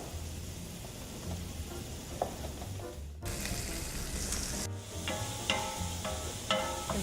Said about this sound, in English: I'm going to add some sliced garlic.